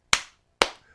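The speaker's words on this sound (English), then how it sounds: "Luapati is Samoan for clap twice" Two sharp hand claps about half a second apart, close and crisp, each decaying quickly into quiet, with no voices.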